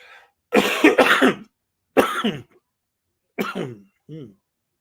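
A few loud, close coughs in separate bursts with short pauses between, ending in a softer throat-clearing cough.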